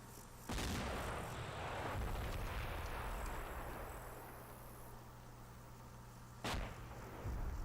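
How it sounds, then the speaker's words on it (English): Firefight gunfire and blasts in the video game Combat Mission: Black Sea: a loud boom opens a steady rumbling barrage, with another sharp crack near the end, all fairly quiet overall. "Firefight continues to intensify."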